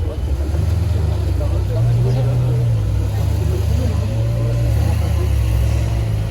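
A grey-yellow Ferrari with beige leather interior pulls away near Paris, a steady low engine drone holding loud and close throughout, swelling slightly midway as it accelerates, with some talk in the background.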